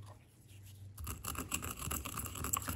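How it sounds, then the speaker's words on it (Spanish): Cumin seeds being ground into powder, likely in a stone molcajete, while preparing picadillo filling for gorditas: a quiet start, then a close, continuous rhythmic scraping and grinding. "Ahora voy a moler el comino"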